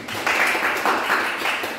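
A class of students applauding after group presentations in a lesson, a steady, moderately loud patter of many hands clapping together, with no voices over it.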